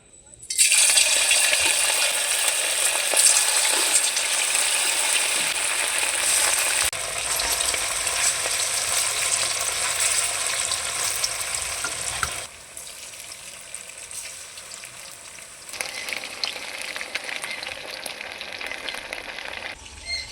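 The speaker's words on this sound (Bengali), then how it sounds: "তেলটাকে ভালো করে গরম করে নিয়েছি এখন চিকেনগুলো কড়াইতে দিয়ে দিব" Chicken sizzles loudly in hot oil, a dense crackling hiss that drops in level partway through, then carries on more quietly with scattered pops.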